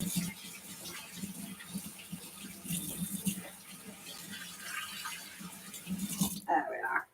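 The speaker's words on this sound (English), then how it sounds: "I wash my hands." Hands washed under a running kitchen tap, a steady broadband splash of water that runs continuously, fairly close, and cuts off near the end.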